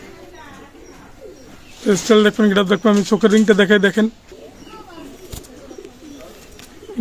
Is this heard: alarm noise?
no